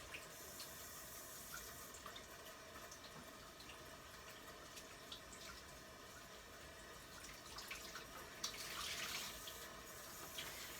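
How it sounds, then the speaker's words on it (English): Water from a tap runs steadily to soak a towel at a kitchen sink during bread baking, a faint continuous hiss and splash that brightens near the end. "I'm going to soak it with water."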